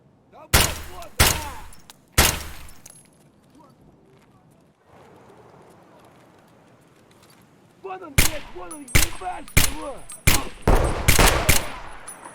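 Gunfire in the shooter game Escape From Tarkov around checkpoint warehouses: a few sharp, loud shots early, a quieter stretch, then a rapid cluster of repeated close shots, with faint voice in places.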